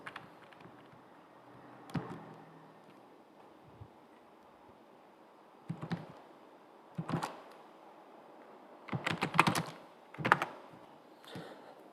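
Keys clatter on a computer keyboard as a command is typed in bursts, quiet single taps early on building to quick clustered clicks near the end, close and alone.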